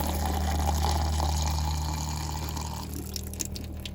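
Water runs steadily from an RV bathroom sink faucet while the camper's water lines are being winterized, a close, continuous hiss and splash that thins out toward the end.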